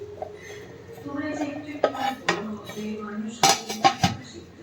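A metal lid is set onto a pot of meat khichuri, with a series of close clanks and clinks of metal on metal against a low murmur of background sound.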